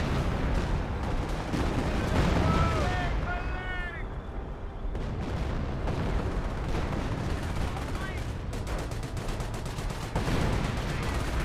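Half-track artillery barrage in Company of Heroes, a steady rumble of distant blasts and crackling impacts running throughout, with a voice talking over it.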